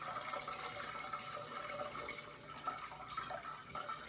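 Homemade chicken stock is poured through a strainer into a pot below, a soft continuous splashing and trickle of liquid at low volume with no one speaking.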